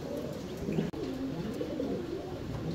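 Pouter pigeons coo softly at a pigeon farm, low burbling calls overlapping steadily, faint and close with light background rustle and one sharp click.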